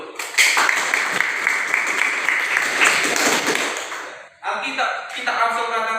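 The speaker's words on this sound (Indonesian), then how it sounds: "Ya tepuk tangan dulu." A classroom or assembly audience claps together in a dense burst for several seconds, then it cuts off and a voice with music-like tones follows.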